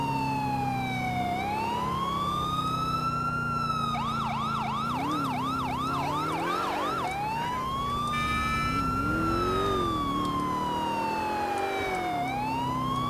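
A police siren in the video game GTA IV sounds continuously, slow wails switching to a rapid yelp and back, loud and near over a running vehicle engine, with no talk.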